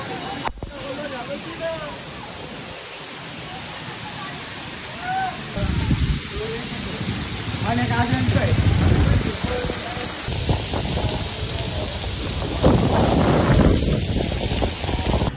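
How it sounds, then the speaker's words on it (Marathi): Heavy monsoon rain pours down at Malshej Ghat in a dense, continuous hiss, growing heavier partway through, with voices faintly underneath. "जोराचा पाऊस, मुसळधार पाऊस"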